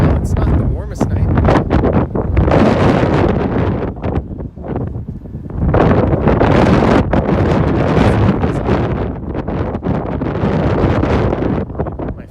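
Gusty wind on a cold night downtown in Toronto buffets the microphone in loud, rumbling bursts that rise and fall, mixed with street ambience while someone talks throughout.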